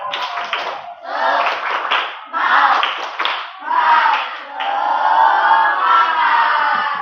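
A school class performs the rhythmic 'tepuk semangat' clapping chant, led by the teacher. Four short, loud group bursts of clapping and shouted syllables come in a steady beat. A longer sustained group chant follows.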